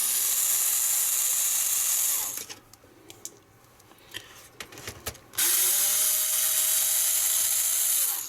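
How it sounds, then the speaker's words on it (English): A power screwdriver whirs loudly, removing screws from a Japanese Sega Saturn console: two long sustained bursts with a quieter stretch of small clicks and handling noises between them. "So let me try and take the last screws out."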